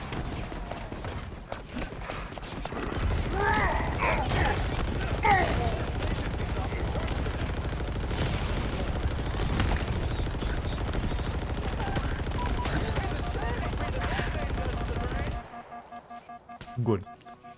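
Dense in-game gunfire from Halo Infinite rattles on continuously for about fifteen seconds, rapid automatic bursts layered with mechanical clanks, then cuts off abruptly to a quiet tail with a few faint clicks.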